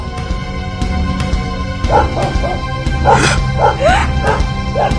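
A dog gives a series of short, sharp barks and yips in quick bursts, fairly close, over a steady background hum with some clicks.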